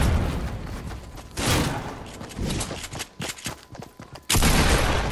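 Rapid assault rifle bursts from a Fortnite match crackle loudly and almost continuously, with heavier volleys near the start and end and brief gaps between them.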